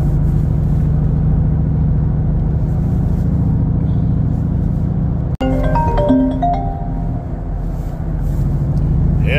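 Race truck cruising on a road while being driven home from Columbia, Maryland, with a steady low engine and road rumble throughout, one sharp click midway and a short chime-like tone after it.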